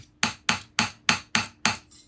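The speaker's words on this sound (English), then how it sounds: "I'm just going to lightly whack this sterling piece down" A sterling silver piece is hammered flat on a bench with a standard hammer: seven evenly spaced, sharp metallic strikes, close and loud, the last one softer, with no talking.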